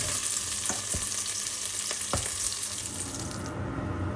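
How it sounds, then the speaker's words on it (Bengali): Potatoes fry in oil in a pan, a steady dense sizzle with a few soft stirring knocks, close and fairly loud, easing slightly near the end with no talking. "এর ভিতরে আমি আলুগুলো আলাদা করে ভেজে নিই"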